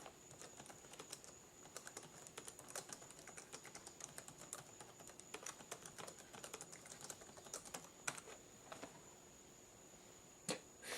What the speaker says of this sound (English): let's see what we can type up here.